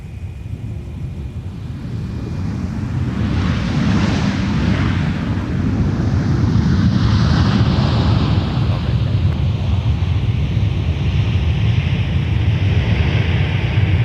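Boeing 737-900ER airliner at Minneapolis–St. Paul airport: a loud, steady jet roar that builds over the first seconds, then holds as a broad rumble with wind buffeting, heard from outdoors.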